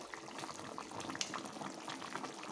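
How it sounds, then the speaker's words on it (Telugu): Stuffed brinjal curry (gutti vankaya), with masala and oil, simmers after water is added, a faint, soft bubbling and fizzing close by, steady with small pops and no voices. "ఆయిల్ వేసి మగ్గనిచ్చిన తర్వాత ఇలా కొన్ని వాటర్ యాడ్ చేసుకొని ఉడకబెడుతున్నాం"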